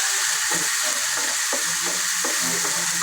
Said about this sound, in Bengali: কিছুক্ষণ ভেজে নেব হালকা রংটা চেঞ্জ হওয়ার আগ পর্যন্ত।